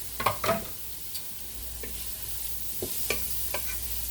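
Chopped ingredients for a chicken parm pasta bake sizzle quietly in a pan, with a few sharp stirring scrapes and clicks breaking through a steady low frying hiss.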